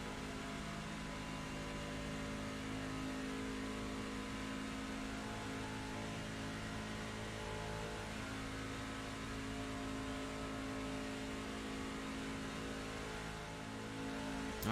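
A race car engine in the iRacing sim holds a steady, sustained drone through a timed lap on an oval tri-oval, with no change in pitch and no voices over it.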